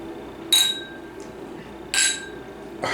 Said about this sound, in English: you can't touch the bulb because it won't chime